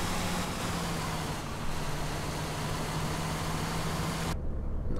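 A Euro 6 coach bus engine in Fernbus Coach Simulator drones steadily and loudly, a constant low hum under broadband road and engine noise that cuts off abruptly near the end.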